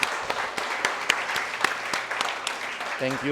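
A church congregation claps steadily for a few seconds during a Sunday worship service, the applause filling the space, and a voice cuts in briefly near the end.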